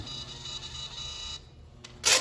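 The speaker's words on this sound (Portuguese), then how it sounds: "a impressora recebe o sinal e faz a impressão do teste antigo" An Alco-Sensor VXL breathalyzer's printer whirs steadily as it prints a stored test, then pauses and ends with a louder burst of paper feed or tear, close and without talk.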